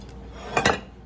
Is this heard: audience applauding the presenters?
no